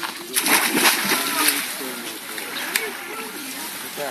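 Icy spring water at an outdoor bathing font splashes and sloshes as people jump in, a steady churning wash with a couple of sharper hits, while people talk nearby through much of it.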